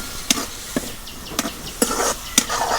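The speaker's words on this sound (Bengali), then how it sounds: "চিংড়ি মাছ তেলের মধ্যে আগে আমি ভাজা ভাজা করতেছি" Shrimp fry in hot oil with a steady soft sizzle, while a spatula scrapes and knocks against the pan about four times at roughly even intervals; no talking.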